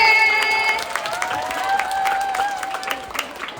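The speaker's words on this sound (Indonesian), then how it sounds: "Sekali lagi beri tepuk tangan yang meriah untuk kelas 9D." A school audience claps for a ninth-grade class after their performance, a steady crowd applause running throughout, with sustained tones from a sound system lingering over the start and faint voices mixed in.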